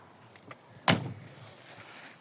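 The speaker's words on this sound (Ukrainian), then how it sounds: "Двері закриваються як холодильник імпортний." A single solid thud of a 2000 Volga 31 car door shutting, close by, followed by a short fading resonance in a quiet outdoor setting.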